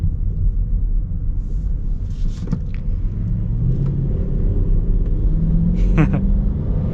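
A Chrysler 300S V8 in sport mode rumbles steadily from inside the cabin, a deep continuous engine drone with a few brief sharper sounds on top.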